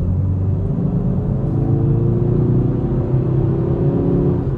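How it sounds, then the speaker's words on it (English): A Kia ProCeed GT 1.6 T-GDI 204 hp engine hums and rumbles steadily with a low, raspy drone and a slight rising tone, heard close with no talking. "this car has that unique sound that only Kia and Hyundai are able to do in their sport cars"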